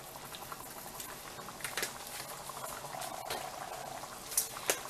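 Seafood stuffing for bell peppers bubbles and sizzles in a pot, a close, continuous crackling and popping with a few sharper pops toward the end and no voices.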